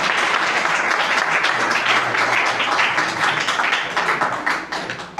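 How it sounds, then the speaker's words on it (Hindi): A seminar audience claps loudly to welcome a newcomer, a dense burst of applause that holds steady before thinning out toward the end. "एक बार जोरदार ताली के साथ उनका स्वागत है।"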